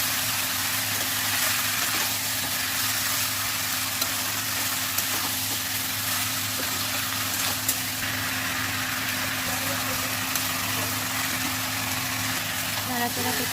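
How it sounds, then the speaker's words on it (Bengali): Chicken sizzles in hot oil over high heat, giving a steady, dense frying hiss throughout. Faint stirring scrapes and a low background hum sit underneath. "প্রথমে চিকেনটা দিয়ে পুরো ফুল হিটে হাই হিটে একদম আমরা 5 মিনিট নাড়াচাড়া করে নেব"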